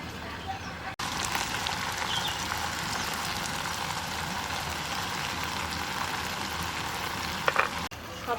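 Mustard paste goes into a fish curry with morla fish and taro stolons, setting off a steady, close frying sizzle. It carries on evenly with a brief dip near the start and a small clink near the end.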